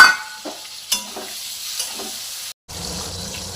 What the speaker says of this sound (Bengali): এই যে চিংড়ি মাছগুলো আমি ভেজে নিচ্ছি সব